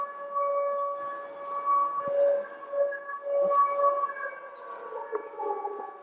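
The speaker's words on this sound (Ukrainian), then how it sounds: "Отак у нас Стамбульський парк і повітряна тривога." An air raid siren wails over Istanbul Park in Odesa, a steady distant tone rising and falling through the air, with faint street noise and brief voices nearby.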